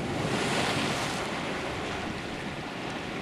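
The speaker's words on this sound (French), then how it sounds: "La marée semble monter." Surf on the Normandy coast at Senneville-sur-Fécamp as the tide rises, a steady, loud wash of breaking waves with some wind noise across the whole stretch.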